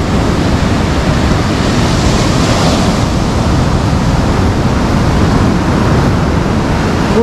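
Sea surf rolls onto the shore at Alanya as a steady, loud, dense wash of breaking waves with no breaks, recorded close by in the morning with no voices.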